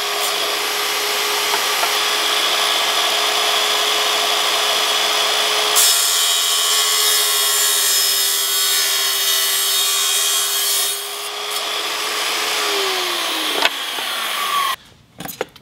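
A power saw grinds through a Schluter tile trim profile to cut a miter, a loud sustained whine that shifts pitch midway and winds down near the end, followed by a few brief clatters.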